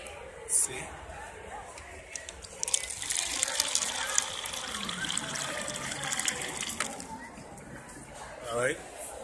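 Water runs from a tap with a steady splashing hiss, fairly close, and brief voices break in near the start and the end.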